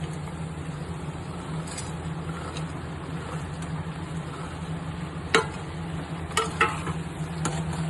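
Cut parotta being stirred and fried in a hot pan for chilli parotta, a steady low sizzle with a few sharp scrapes and clinks of the spoon near the end, no talking.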